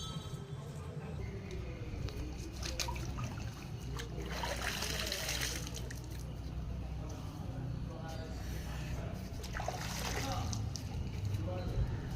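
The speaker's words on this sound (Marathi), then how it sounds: "या थंडगार पाण्यामध्ये पुन्हा एकदा मी माझे हात आणि पाय वगैरे धुवून शुद्ध झालो आहे" Cold running water splashes and trickles continuously as hands are washed at Rameshwar temple, fairly close, with faint background activity and no clear speech.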